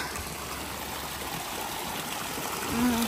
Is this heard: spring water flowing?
yes